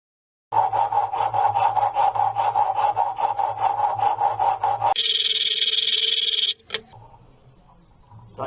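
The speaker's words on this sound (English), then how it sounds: "we get my rub brick and tidy up the back edge" A rub brick is worked along the back edge of a travertine tile, leaving a steady, rhythmic rasping scrape that runs close and loud for several seconds and then shifts to a higher, harsher grind before stopping.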